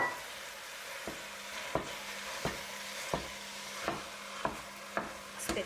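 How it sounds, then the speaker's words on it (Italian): Ground meat stirred into a sizzling soffritto in a pan for ragù alla bolognese: a steady low frying hiss broken by regular spoon scrapes roughly every half second or so, close up, with no talking. "Dopo un paio di minuti che il vostro soffrittino sta soffriggendo"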